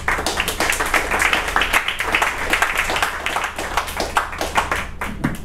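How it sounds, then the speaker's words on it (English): An audience applauds at a spoken-word open mic, a steady, fairly loud patter of many hands clapping throughout, with a faint voice briefly underneath. "Everybody clap it one more time for Selena."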